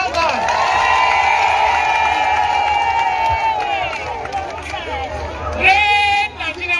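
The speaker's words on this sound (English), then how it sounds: "But clap for yourself." Women protesters gathered at Nigeria's National Assembly clap and cheer together, loud high-pitched voices ringing out in long sustained shouts over scattered clapping, with crowd chatter and a fresh burst of cheering near the end.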